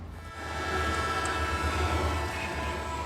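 A train rumbles past on railway tracks, a steady, close, continuous low drone with a rushing wash of noise and no voices.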